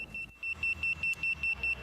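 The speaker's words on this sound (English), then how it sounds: "featuring advanced alarm system" A homemade robot's alarm system sounds a rapid string of short, high electronic beeps, roughly a dozen evenly spaced pulses over a faint background.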